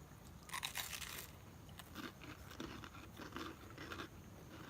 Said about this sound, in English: Can you hear that crunch? That's my potato scallop.